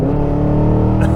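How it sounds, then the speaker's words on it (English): A 2023 Cadillac Escalade V's stock exhaust roars loudly and close, a rich steady engine note held briefly at night. "I cannot believe we have an exhaust note like this out of a stock vehicle."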